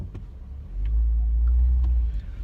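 A car passing close by on a street, a deep rumbling engine roar that builds quickly and holds loud for over a second before easing off, with no talking.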